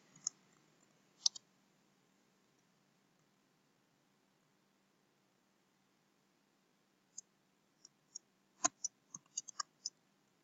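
Quiet keyboard typing while entering an email address: two isolated key clicks at first, then after a long silence a quick, uneven cluster of soft taps, close and faint.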